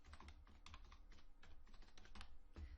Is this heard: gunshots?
no